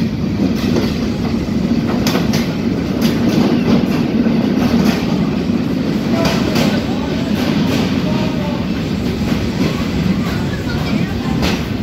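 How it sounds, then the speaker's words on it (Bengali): Train running on rails during a trip in Bangladesh, a loud continuous rumble with rhythmic clickety-clack beats from the wheels, steady and close throughout, with no talk over it. "রেলের চলার একটা ছন্দ আছে"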